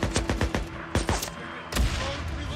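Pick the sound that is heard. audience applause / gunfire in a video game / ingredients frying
gunfire in a video game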